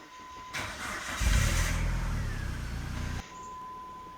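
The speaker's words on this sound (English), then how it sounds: "I'm going to go ahead and start the engine." A car engine cranks and catches, then settles into a steady, fairly loud idle with the heater at max before cutting off abruptly.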